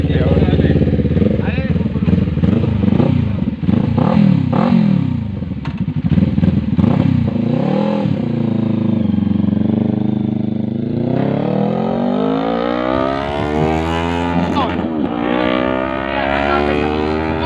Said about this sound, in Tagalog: Test drive ni Sir Nad din.